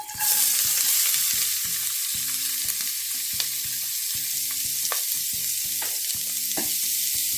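Chopped medium onion frying in hot oil for a Kerala-style breadfruit curry: a loud, steady sizzle throughout, with occasional light scrapes of stirring and no talk.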